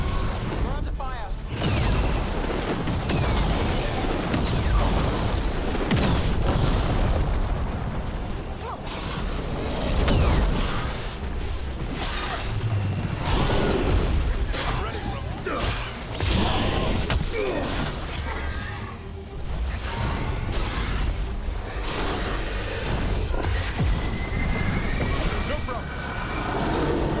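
Combat in Dragon Age: The Veilguard, with heavy booms, impacts and crackling bursts piling up densely across the whole stretch, loud and chaotic, mixed with voices and game sound.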